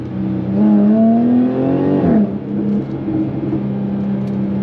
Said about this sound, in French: Voilà, des retours à l'échappement.